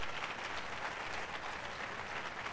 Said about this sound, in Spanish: A ver, aplauda al Señor hoy.